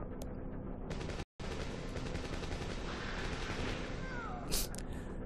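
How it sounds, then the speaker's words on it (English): Rapid gunfire from the Dino Crisis video game crackles as a loud, dense, continuous burst, broken by one brief gap of silence, with a short high-pitched accent near the end. "With some machine gun noises over it"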